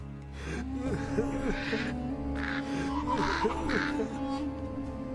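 A crow caws in several harsh, scattered bursts over a steady humming background, moderately faint, with a faint voice-like sound mixed in.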